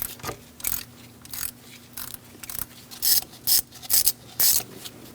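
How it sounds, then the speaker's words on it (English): A 10mm socket ratchet works loose the ignition coil bolt on a 2006-2011 Chevrolet HHR 2.4L four-cylinder, giving a series of close, quick raspy clicking strokes in uneven bursts, alone without speech. "we're going to take out this bolt for the coil."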